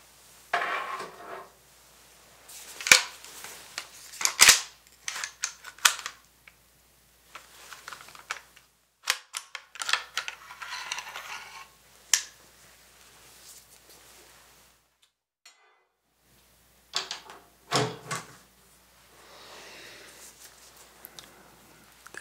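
A rifle bolt is handled up close in a quiet room, with intermittent metallic clicks, scrapes and rubbing spread out across the stretch, separated by silent pauses.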